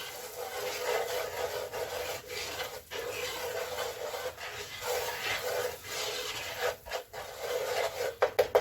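Spices and nutmeg being stirred in a bowl for caramel apple pie pork chops, a continuous gritty scraping and rubbing with a few sharper knocks toward the end, close and steady without speech.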